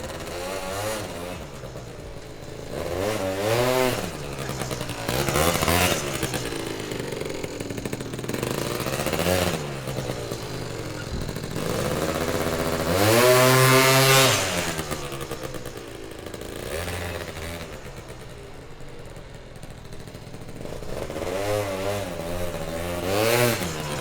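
A Yamaha BW's scooter fitted with a Malossi Delta clutch rides around a parking lot, its small engine buzzing and revving loudly in rising and falling waves, close up and without talk.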